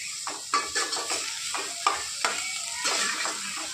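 Ginger roasts in hot oil in a pan with a continuous close sizzle, broken by regular scraping strokes of a stirring spoon, with no voices.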